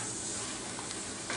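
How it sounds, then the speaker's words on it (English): Cream cheese being stirred into a simmering side dish in a pan: a soft, steady sizzle with faint scraping from the spoon along the bottom, quiet and close, with no talking. "add the cream cheese in. About a tablespoon. Stir it around, get that more of that stuff off the bottom, and break it down."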